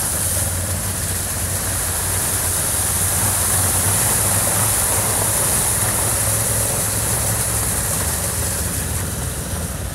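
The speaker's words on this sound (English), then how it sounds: "The deep burbling exhaust note reminds you that if you want to get going, you can." A 2022 Honda Africa Twin motorcycle runs along dirt roads, its engine and exhaust giving a steady low drone under constant loud wind rush, unbroken for the whole stretch.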